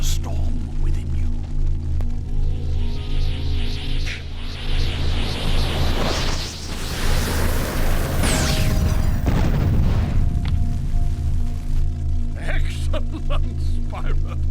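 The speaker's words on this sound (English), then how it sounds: "Now, rise up and release the firestorm within you." Spyro's fire fury attack in The Legend of Spyro: The Eternal Night, a long loud surge of rumbling booms and whooshing blasts that swells and peaks midway, with a sharp burst before trailing into lighter effects.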